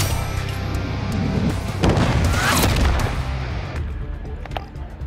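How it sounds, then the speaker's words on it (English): A friendly cruise missile strike in Call of Duty: a loud, rumbling explosion with crashing debris swells in the middle of a dense battlefield din, then fades back to scattered distant gunfire and bangs. "Friendly cruise missile approaching target."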